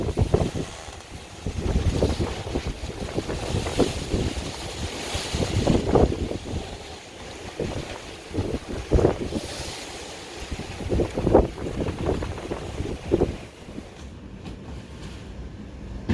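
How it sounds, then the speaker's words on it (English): Strong wind gusts from Hurricane Lee roar across an outdoor garden with netting, rising and falling in loud buffeting surges with heavy microphone wind noise throughout, with no voices. "It comes in gusts, and when the gusts come, it gets incredibly windy."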